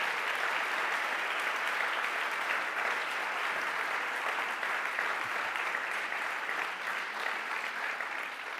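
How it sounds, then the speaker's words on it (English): A seated audience claps for Erik after his talk at a sustainable business event: dense, sustained applause that holds steady throughout without voices rising above it. "I think we can also applaud Erik after his speech."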